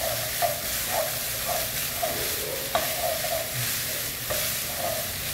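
Minced beef and chopped tomato sauté in a pan, a steady close sizzle under repeated rhythmic scraping strokes of a spoon stirring every half second or so.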